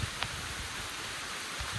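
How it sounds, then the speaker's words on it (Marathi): Steady, heavy rain pours down in a forest on the Rayling plateau in a dense hiss, with a few louder drops standing out close by. "बाहेर पाऊस पडतो"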